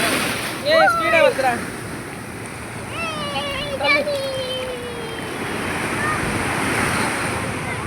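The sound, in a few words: sea waves at Kovalam beach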